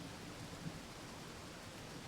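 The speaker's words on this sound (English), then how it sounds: "the rain continues to fall," Steady rain falls in the video game Corpse Factory, a continuous soft hiss of downpour with a faint low rumble beneath it and no talking.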